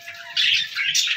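Java pigeons kept in a big cage give brief, close chirps and squawks in a short burst over a faint steady background hum.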